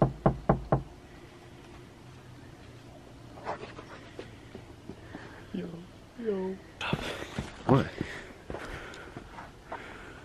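Several sharp knocks strike a pair of big front gate doors, rapid and loud at the start, followed by scattered footsteps, a panting dog and people talking nearby.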